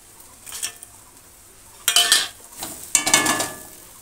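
Fried eggplant and fried boal fish go into a cooking pan for a spiced curry, giving three bursts of clattering and hissing sizzle with quieter pauses between them, close and without talk.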